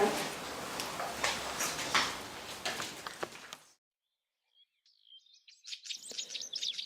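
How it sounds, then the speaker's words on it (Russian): A chaffinch sings in spring, its bright, fast phrases arriving clearly after a stretch of rustling handling noise and a short silence. "Это зяблик распевает про любимый край родной."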